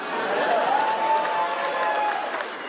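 Audience applause and cheering fill a comedy club during a Tom Segura stand-up set, a steady, dense wash of clapping with crowd noise and a voice faintly mixed underneath.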